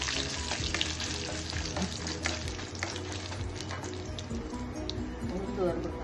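Urad dal frying in a pan for Thanjavur tomato chutney, a busy close sizzle with stirring scrapes while a person talks over it.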